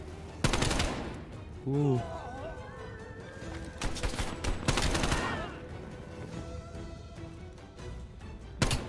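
Repeated bursts of AK-74U automatic fire in Call of Duty Cold War, sharp volleys clustered early and mid-way, loud and near, with a brief voiced exclamation and game sounds between bursts.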